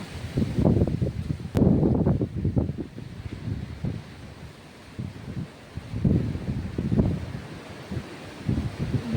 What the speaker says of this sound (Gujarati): ફૂલ જોરદાર પવન આવ્યો.